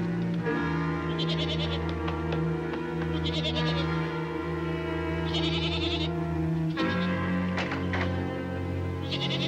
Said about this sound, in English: I want you and Lassie to stay here and keep those goats in the corral.